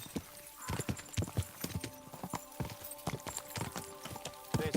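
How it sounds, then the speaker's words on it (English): Horse hooves clip-clop in a steady walking rhythm on a hard road in Kingdom Come: Deliverance 2, close and clear, with a steady tonal game score running beneath the hoofbeats. "This horse."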